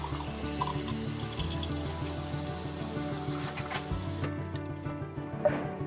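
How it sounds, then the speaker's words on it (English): Hot tap water runs steadily into the tank of a Bissell SpotBot carpet cleaner with a hissing, bubbling rush and a low mechanical hum, continuous throughout, no one speaking. "I'm going to fill it full of hot water up to the"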